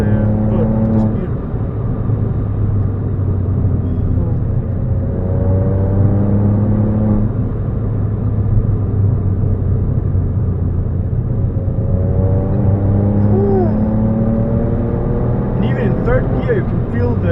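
A Ford Fiesta Mk7 ST-Line 140 accelerates hard, its engine a loud steady rumble and whir close by that rises through the gears, with talking over it.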